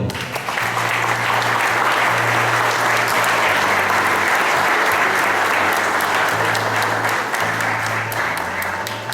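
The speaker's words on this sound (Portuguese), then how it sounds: "Agora aceite e aplaude ao Senhor" Loud, sustained applause from a church congregation during an evening sermon service fills the room for about nine seconds, with a low music tone humming beneath the dense clapping.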